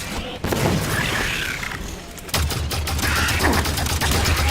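Dense gunfire and booming explosions from the Halo 5 Guardians video game, loud and continuous with rapid bursts and rumbling blasts, dropping briefly before surging again.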